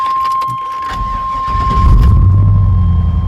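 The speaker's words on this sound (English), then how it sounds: "we're going to go start the engine" A 7.4-liter one-ton dually truck engine cranks and turns over, catching into a deep, steady idle rumble that fills the cabin, with a faint high electronic tone throughout.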